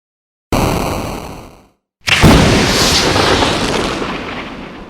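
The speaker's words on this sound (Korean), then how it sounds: "일정한 간격으로 폭발이 계속되었습니다." Two rock-blasting explosions inside a granite tunnel, a short sharp burst followed after a brief silence by a louder, sustained rumbling blast that slowly fades, loud and close with no talk.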